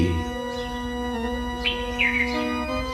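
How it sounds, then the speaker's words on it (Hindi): Small birds chirp and tweet in the morning, repeated bright calls rising over a steady droning background hum with a few harmonic tones, fairly close and clear, with no talking. "सुबह हुई है, पक्षियों की किलहोल, ये भी प्राकृतिक साउंड संगीत"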